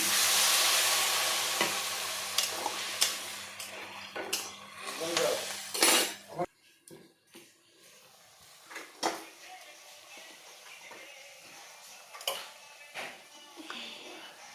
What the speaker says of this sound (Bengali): দিয়ে দিলাম অল্প জল,